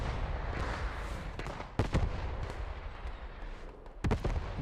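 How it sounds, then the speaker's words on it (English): Artillery barrage in the video game Post Scriptum: several sharp, heavy blasts, a close pair and then one more a couple of seconds later, punch through a steady roar of broadband battlefield rumble, with no voices. "More artillery coming down on point now."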